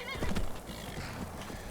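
A horse summoned by magic in a video game (Skyrim) whinnies and clip-clops across the ground, a short, close neigh followed by hoofbeats, alone with no talk.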